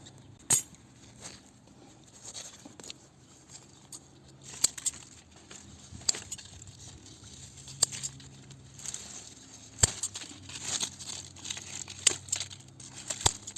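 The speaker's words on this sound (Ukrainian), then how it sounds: "Ножицями обрізаю, маю сікатор, але ножицями теж добре." Quiet crisp snips of scissors cutting diseased tomato plant stems, irregular and close, with faint rustling of leaves between the cuts and no talking.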